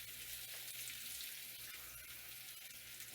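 Pork chops frying in butter with onion, a faint steady sizzle and hiss that holds evenly throughout, with no voices.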